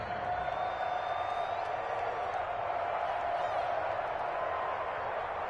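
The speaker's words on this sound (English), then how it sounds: "How about some applause for the defense there?" A stadium crowd in a Madden football game cheers and applauds after a defensive stop, a steady, dense roar of clapping and cheering holding at an even level throughout.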